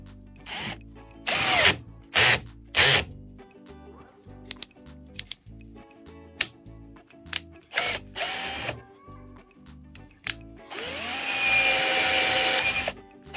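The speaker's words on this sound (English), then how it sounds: "So I need to drill that out." A power drill with a 3/8 wood bit whirs in several short bursts separated by pauses while drilling out a rotten garden hoe handle, then runs one longer, louder stretch near the end. Faint clicks and handling noises fill the gaps.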